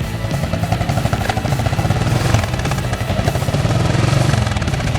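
Motorcycle engine idling and running close by, a loud steady chugging with rapid regular pulses and slight rises in revs, no talk over it.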